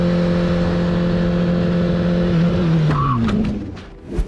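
A race car hitting a deer: a steady, loud engine drone holds for nearly three seconds, then the pitch drops abruptly amid scattered impact and scraping noises, with a final short thud near the end.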